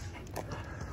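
A heavy dog pants close by in a quick, breathy rhythm, faint and brief.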